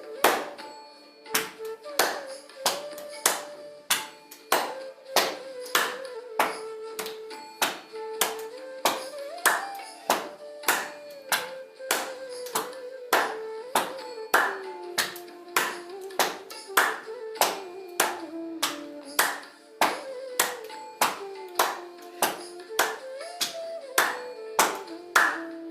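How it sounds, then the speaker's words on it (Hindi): Sharp, evenly spaced hand claps repeat in a steady rhythm during a yoga exercise, with palms struck front and back, close and crisp. A sustained tonal drone or chant runs underneath. "आगे पीछे ताली बजाएं।"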